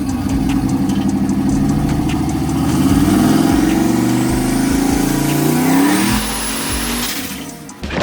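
A boosted 4.8-litre truck engine revs hard as it is put in drive, a loud, sustained roar rising and falling in pitch over several seconds before easing off near the end, with no talking.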